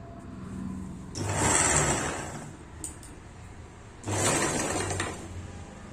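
Sewing machine stitching a blouse along a marked line, two distinct bursts of steady mechanical whirring, each about a second or more long, separated by a quiet pause, close and fairly loud.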